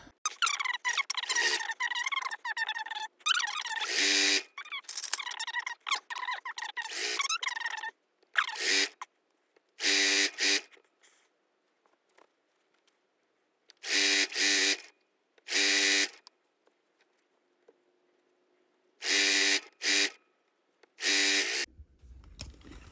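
A home sewing machine winds bobbin thread in loud, steady motor whirs, several bursts of a few seconds each separated by pauses, alone without talk.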